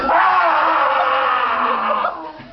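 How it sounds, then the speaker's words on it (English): A man screams in a sustained, strained, distorted yell lasting a couple of seconds before trailing off, loud and alone. "why is a random guy jumping on the walls and screaming?"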